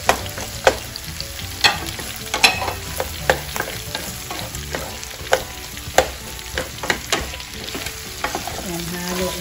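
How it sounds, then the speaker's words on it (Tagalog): A whole large onion fries in a pan for pork belly adobo. A close, steady sizzle runs throughout, broken by regular scraping and clinking from stirring. "Ilagay natin yung onion."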